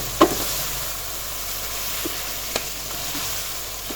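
Chicken karahi masala frying in oil with a steady, hissing sizzle close by, marked by a few faint clinks of stirring.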